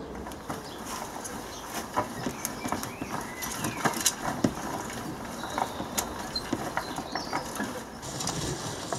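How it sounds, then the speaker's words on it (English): Old compost runs through a rotary sieve outdoors on an allotment, giving a faint, continuous rattling churn with irregular soft knocks and clatters; birds are faintly audible. "What I plan to do now is run it through the rotary sieve"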